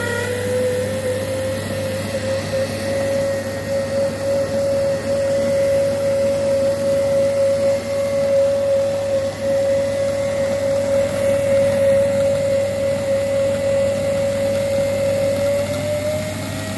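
Electric motor running steadily to spin a G414 alternator from an M72, Dnepr or Ural motorcycle on a test setup, a constant loud whine with a fixed tone and a low hum that hold throughout.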